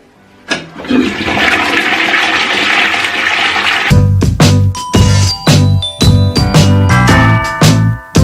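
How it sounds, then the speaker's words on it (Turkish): A toilet is flushed after the bowl is cleaned with Domestos: a loud, rushing flush for about three seconds, then a run of sharp clinks and knocks as the cistern refills, with no talking. "Sifonu çekiyorum ve klozet temizliğimi tamamlamış oluyorum."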